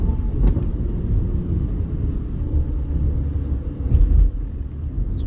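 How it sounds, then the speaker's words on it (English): Heavy road traffic on the Las Vegas Strip near the convention center, a steady loud low rumble of passing cars with a swell of a louder vehicle around the fourth second. "Pretty heavy traffic out here."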